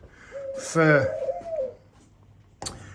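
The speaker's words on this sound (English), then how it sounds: "I've had the Java doves for quite a while now." Java doves coo in a dove loft and aviary, one rising-and-falling call near and clear, followed by quiet and a brief sharp sound at the end.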